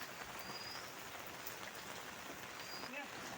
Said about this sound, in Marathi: बारीक बारीक पाऊस अजून चालू आहे